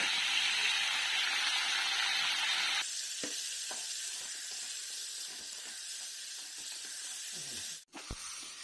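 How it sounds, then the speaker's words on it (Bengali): Potatoes and eggplant fry in hot oil for a Bengali fish-head curry, giving a continuous close hiss that softens after a few seconds, with light stirring clicks and a brief clatter near the end. "হালকা আলু বেগুনগুলো ভেজে"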